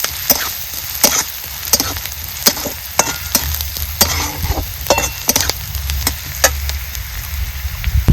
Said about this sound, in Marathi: चांगला लालसर कांदा भाजलेला आहे